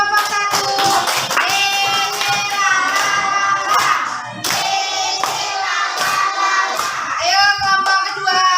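A class of students claps together for a classroom group during a school teaching practice session, with loud, fairly rhythmic hand claps mixed with children's voices chanting throughout.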